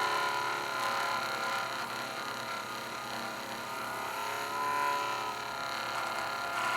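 JOOLTOOL sanding wheel spinning steadily while polishing polymer clay, a constant close motor hum with a bright, even whine and no pauses or voices.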